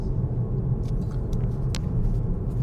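A car cruises toward a roundabout at around 40, heard from inside as a steady low engine and tyre rumble with a few faint light clicks above it.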